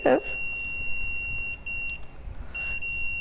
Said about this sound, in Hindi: ये देखिए आपको बीप साउंड सुनाई दिया, that means it is continue